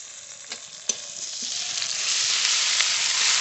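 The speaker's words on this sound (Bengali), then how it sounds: "পেঁয়াজ কুচি দেব পেঁয়াজটা একটু ভাজা ভাজা করে নিয়েছি আদা রসুন বাটা দিয়ে দেবো" Chopped onion frying in hot oil with ginger-garlic paste while preparing rohu fish kalia, a steady close sizzle that grows louder and denser, broken by a few light stirring clicks.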